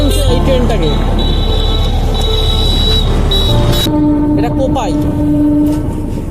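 A train passes nearby at Kopai, with a loud, heavy rumble and clattering wheels and sustained horn tones that cut off as the noise drops partway through.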